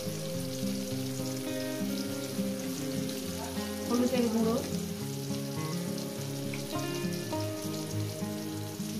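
Turmeric powder going into a pan of sizzling Bengali katla fish curry masala, a steady close frying hiss with a brief louder stir in the middle.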